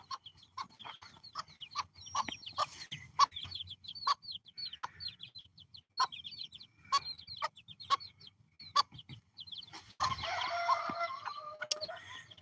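Off-grid farm chickens and growing chicks cluck and peep in a steady series of short, close calls, with a brief rustling burst near the end.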